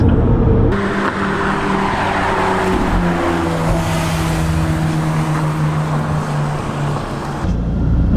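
McLaren 570GT sports car engine running loud and close, a sustained throaty roar with shifting revs throughout.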